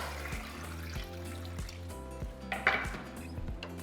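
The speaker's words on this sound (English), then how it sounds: "We're going to cover it with water." Water splashes and trickles steadily into a metal pot holding onion and tomatillos for salsa, with faint clinks and a brief louder gush midway, fairly close and quiet.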